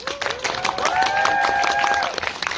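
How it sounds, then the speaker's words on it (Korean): An audience at a Seoul Independent Film Festival screening Q&A claps for the director and actors, with continuous brisk clapping under a sustained whistle-like tone. "박수 한번 부탁드리겠습니다."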